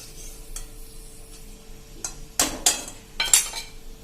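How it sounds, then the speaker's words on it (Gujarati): Peanut bhujia drops into hot oil for frying, giving soft crackling and a few loud sputtering bursts with spoon clinks against the pan, close and without speech. "તો હવે આપણે આ બધા સિંગ ભુજિયાને તળી લઈએ."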